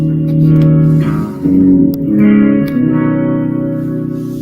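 Electric guitar played through effects during a sound check in a room, sustained chords ringing with echo and reverb, loud and steady with slight changes between held notes.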